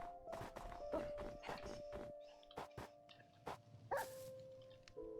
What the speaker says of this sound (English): I hear dogs and stuff.